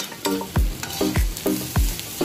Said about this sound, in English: Stir that around in your wok.